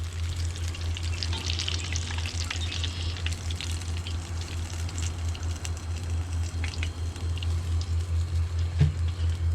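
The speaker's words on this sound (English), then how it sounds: "Oh man, pork cracklin fried speckled trout." Pork cracklin battered speckled trout frying in hot oil, a steady close crackling sizzle with dense popping that runs continuously at moderate volume, no talking.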